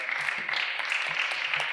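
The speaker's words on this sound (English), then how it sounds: "Hand clap," An audience claps at a computer professionals' multimedia meetup, a dense, steady patter of many hands filling the whole short stretch at even loudness.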